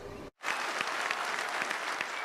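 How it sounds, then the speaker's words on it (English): Hearty audience applause fills a Liberty High School auditorium during a Bedford County supervisors' meeting, starting after a brief silence and then holding as a dense, steady roar of clapping. "The applause inside Liberty High School's auditorium was frequent and hearty Monday night"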